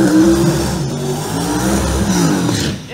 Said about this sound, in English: the beautiful twin turbocharged Chevrolet Camaro Extreme Racing engines gonna try to get down the racetrack tonight